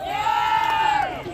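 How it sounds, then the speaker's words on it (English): A crowd cheers for two contestants at a Jackjumpers fan event in Australia, a sustained high whooping roar lasting just over a second. "Yeah, that's a good cheer."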